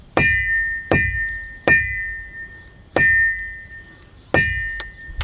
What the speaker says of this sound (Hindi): पूरा घंटी आवाज